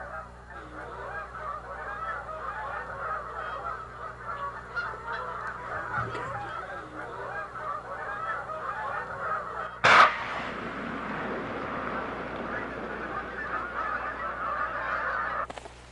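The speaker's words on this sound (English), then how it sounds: "Winter is also an ideal time to capture and band Canada geese" Canada geese honk continuously in a large flock at a wildlife refuge in winter, a dense, far-off chorus of overlapping calls with a sharp bang partway through and the honking carrying on after.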